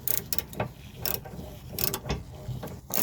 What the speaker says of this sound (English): Then I get my ratcheting wrench to finish it off